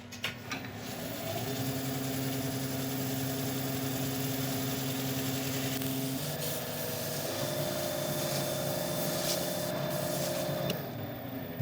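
Steady hum and whir of a spinning wood lathe while a linseed oil and shellac finish is pressed against a black locust piece, a continuous drone that shifts pitch slightly partway through, with faint rubbing underneath.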